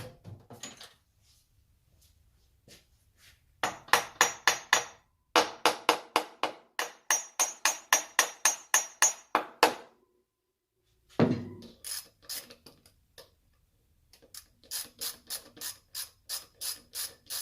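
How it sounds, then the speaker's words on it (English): An HVAC evaporator gearbox is taken apart with hand tools. Runs of rapid, rhythmic ratchet clicks come in bursts separated by silence, with a heavier metallic clunk in the middle. The sound is close and there is no talking. "So let's stand it up and pull that gearbox apart."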